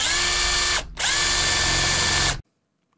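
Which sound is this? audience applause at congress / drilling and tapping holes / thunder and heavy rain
drilling and tapping holes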